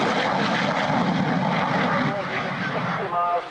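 Propeller-driven aircraft engine roaring loudly and steadily as the plane accelerates down the runway at an airshow, with a commentator talking over the continuous drone.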